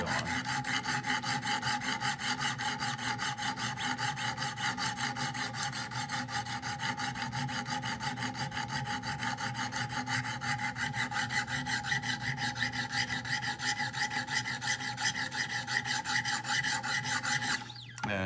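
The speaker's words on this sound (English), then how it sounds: "And I just do some scrubbing with the 200 grit stone until all that marker is gone." A knife blade scrubbed back and forth on a 200 grit sharpening stone in a Wicked Edge system, a continuous close rasping grind with a fast, even stroke rhythm, no voices.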